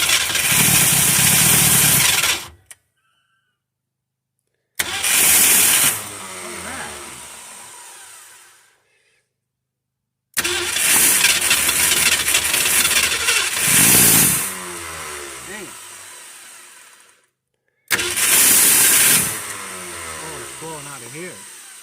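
An abandoned Ford Fairlane engine cranks and fires in several loud, close bursts of starting and rough running, broken by silent pauses, with excited voices over it.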